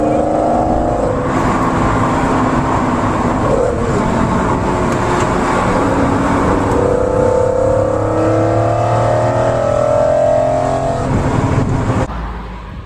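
A BMW E46 M3 fitted with a CSL intake accelerates hard on a mountain road, its loud, close engine and intake roaring as revs climb and fall through gear changes before easing off at the end.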